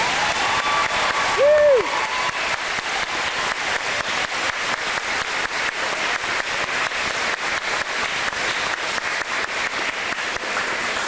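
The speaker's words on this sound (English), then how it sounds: "Let's give Mr. Griffith another round of applause" A crowd gives Mr. Griffith another round of applause at a Niagara Falls charity event, with steady, sustained clapping throughout and a short tonal blip near the start.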